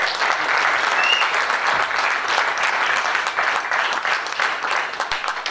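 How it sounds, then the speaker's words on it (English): Sustained applause from a large library audience at a jazz performance, dense and even clapping that continues throughout at a steady level. "Give them a wonderful, wonderful round of applause."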